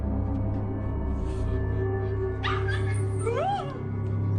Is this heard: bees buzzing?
no